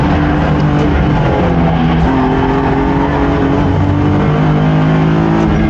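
BMW E36 race car on the Nürburgring, its engine a loud continuous drone with steady harmonic tones shifting in pitch, close and dominant throughout.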